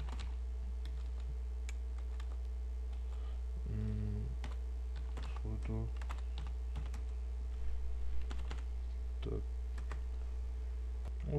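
Steady computer keyboard typing while entering text in Photoshop: irregular clicky keystrokes and short bursts of taps over a constant low electrical hum, with no talking.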